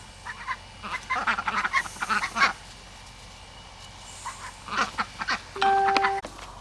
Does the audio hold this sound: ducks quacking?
yes